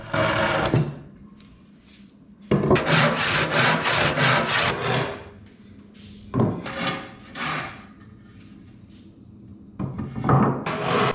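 A handsaw rasps through wooden boards in several bursts of rapid back-and-forth strokes, separated by short pauses, close and fairly loud.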